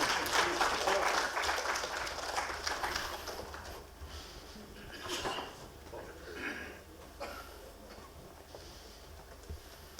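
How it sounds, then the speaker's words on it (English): Audience applause at a manufacturing industry conference, fairly strong clapping at first that quickly thins to scattered claps and fades away, followed by low room murmur and faint voices. "Ladies and gentlemen, please give a big round of applause."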